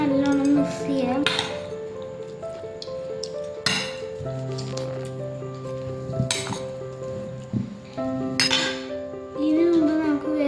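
Chilli powder, pepper and salt are stirred together in a bowl, giving close clinks and scrapes of a spoon against the dish amid kitchen clatter, with a faint sizzle in the background.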